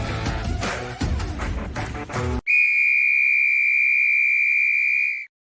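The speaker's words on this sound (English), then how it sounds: "there's the whistle." A single long, shrill whistle blast sounds clearly and steadily for about three seconds, following a brief burst of busy background noise.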